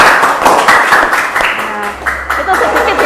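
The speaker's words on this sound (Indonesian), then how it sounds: "Beri aplaus untuk Mbak Bibah dan" Applause breaks out for a participant in a classroom teaching session: a short burst of clapping from a group, mixed with a voice speaking over it.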